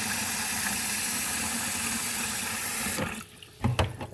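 Tap water runs steadily into a sink as freeze-dried ramen noodles are rinsed, a loud continuous splash that cuts off near the end, leaving a few brief clatters and knocks.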